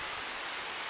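Heavy rain from a storm pours onto an outdoor deck in North Carolina at night, a dense, steady hiss close by with no pauses, filling the whole moment without any voices.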